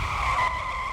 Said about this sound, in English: The truck crashed into Gregson's car.